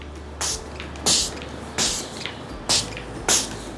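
A spray bottle of fermented rice water mists five times in short bursts, each a brief hiss spaced about half a second to a second apart, close and fairly loud with no talking.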